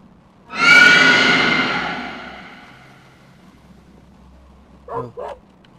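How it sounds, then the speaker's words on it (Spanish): One loud, close dog bark with a long ringing tail inside the horror game Don't Scream, followed a few seconds later by two short, fainter yips. "el perro está ladrando"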